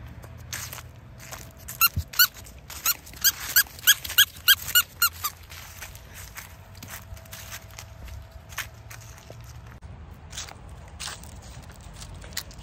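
A dog at a dog park, giving a burst of sharp high squeaks and whimpers in quick succession amid faint shuffling and outdoor background noise.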